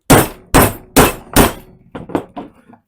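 Hammer hitting a socket to knock out a tight VW Beetle rear wheel seal, with four loud, evenly spaced metallic bangs followed by three or four quicker, lighter taps that fade out.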